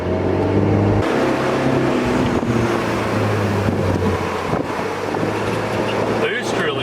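A Pontiac sports car in race mode drives hard through corners, its engine droning loud and close under heavy wind rush, with the pitch shifting as it changes gear.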